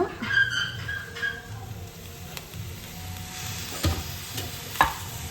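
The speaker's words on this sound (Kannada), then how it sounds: "ಇದನ್ನು ಸ್ವಲ್ಪ ನಾನು ಎಣ್ಣೆನಲ್ಲಿ ಫ್ರೈ ಮಾಡಿಕೊಂಡು ಮಿಕ್ಸಿಗೆ ಹಾಕ್ತೀನಿ" Soft sizzle of soaked chickpeas and peas frying in oil, with occasional stirring clicks and light scraping of a spoon against the pan.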